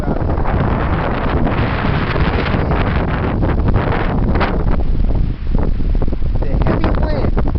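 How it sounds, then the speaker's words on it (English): Heavy, cold wind blows outdoors, roaring continuously and buffeting the microphone with a loud, rough rush that barely lets up. "The heavy wind."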